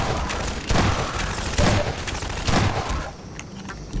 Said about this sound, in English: Let's see what the shotgun's like in Half-Life 2.